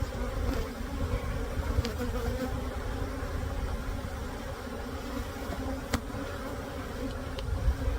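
An agitated honey bee hive buzzing continuously, a dense, steady drone close up with a few faint clicks and knocks, no one speaking.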